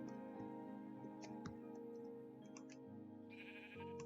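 Sheep in the Minecraft video game bleat several times over a steady low background, the cries fairly clear and close, with no talking.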